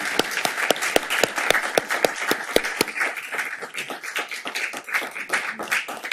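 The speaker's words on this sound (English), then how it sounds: "I think maybe it would be okay if we gave a little clap." Applause breaks out at a Santa Monica city council meeting, a room of people clapping steadily for several seconds with sharp individual claps standing out close by.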